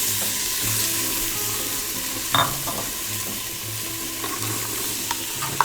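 Onions and celery sautéing in an Instant Pot, a steady low sizzle with a couple of brief stirring clinks and scrapes; no talking.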